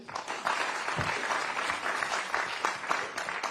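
An audience at a meeting with people living with disabilities claps steadily, a dense patter of many hands sustained throughout at moderate volume.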